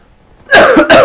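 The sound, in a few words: coughing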